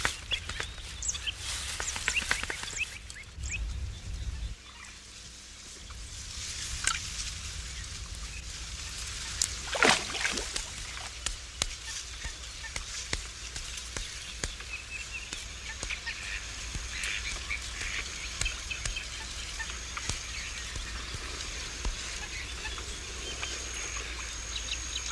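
Geese and other waterbirds honk and call across a spring marsh in Andalusia, a steady chorus of overlapping calls at moderate distance with one louder nearby honk midway.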